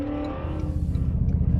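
Toyota Tundra TRD Pro hybrid with a 3.4-liter twin-turbo V6, engine and exhaust droning loud and steady from inside the cab, a deep aggressive rumble that builds slightly under load with no talking.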